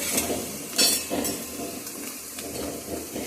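Onions for biryani beresta fry in plain oil with a close, crackling sizzle and a few sharper spits and pops.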